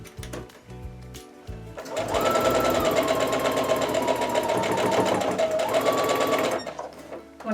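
A sewing machine stitching a quilt block with an even quarter-inch seam: a few soft clicks, then a steady, fast, loud mechanical whir running for several seconds before slowing and stopping.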